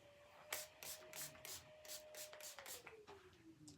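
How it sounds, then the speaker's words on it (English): Design Essentials finishing spray misted onto freshly styled hair in a salon, heard as a quick series of about eight short, hissing pump bursts, close and fairly quiet, over a faint steady tone. "I'm gonna put some spray in it"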